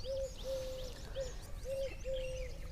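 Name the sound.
Asian koel calling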